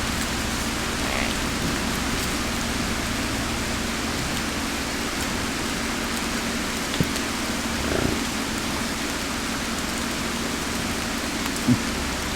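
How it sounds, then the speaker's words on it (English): Steady rain falls outdoors at a farm where buffalo graze, a dense, even hiss with a few faint nearby thumps and no talking. "Starting to rain."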